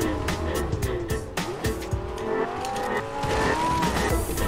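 A car in Fortnite drives and skids, with a loud engine drone and long tire squeals that bend in pitch, continuous and close, while players talk over it.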